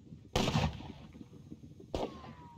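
Two sharp gunfire bursts in a Renaissance-era battle game at Cerignola, 1503, the first a loud crackling volley, the second a shorter report about a second and a half later, with quiet rumble in between.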